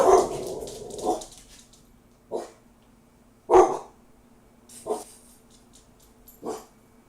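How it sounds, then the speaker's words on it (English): Indoor dogs give a run of sharp, spaced barks, one loud burst followed by several more at intervals of about a second, close and with no speech. "I don't want them to be barking over you."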